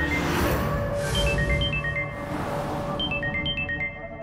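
Mobile phone ringtone ringing indoors, a repeating electronic melody of short beeping notes rising and falling, moderately loud and continuous without talk.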